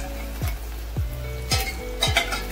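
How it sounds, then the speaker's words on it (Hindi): Onions sizzling as they fry in a pan for a whole moong dal tadka, with a steady hiss broken by four evenly spaced scrapes of a spoon against the pan, close and moderately loud, no voices. "तो आप देख सकते हैं प्याज अच्छे से फ्राई हो चुका है"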